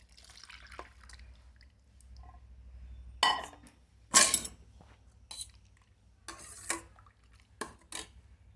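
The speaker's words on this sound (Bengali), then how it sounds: "হলুদ দিয়ে আমি একটু ভালো করে নাড়াচাড়া করে মিশিয়ে নিচ্ছি" Mango dal with boiled sour mango and turmeric is stirred in a pot. A spoon gives intermittent close scrapes, clinks and wet splashes between quiet gaps, with no one speaking.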